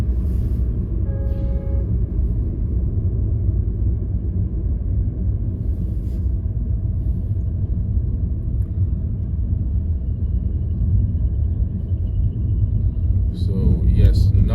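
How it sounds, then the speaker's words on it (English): Steady low engine and road rumble from a car cruising along national route G220 in China, continuous and even throughout with a brief brighter burst of noise near the end. "now I was driving along the national route G220"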